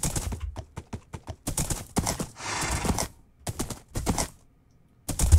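Rhythmic hoofbeats clop in quick bursts with short gaps, a galloping horse in Minecraft, close and clear with no talking.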